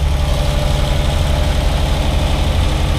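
A cold Nissan 300ZX twin turbo engine idles high at around 1500–1600 rpm with a possible intermittent misfire, a loud, steady, close rumble with an even low pulsing throb and no talking.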